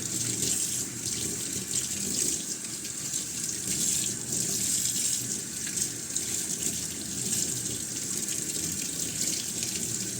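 Tap water running steadily into a sink while soap is rinsed off strings, a constant close splashing gush with no pauses.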